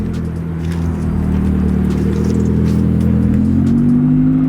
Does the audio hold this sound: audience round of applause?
no